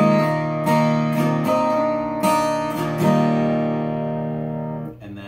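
Acoustic-sounding guitar plays a song's chord part slowly, strummed chords ringing out with a steady, unhurried rhythm and an open chord sustaining between changes, close and clear with no talking.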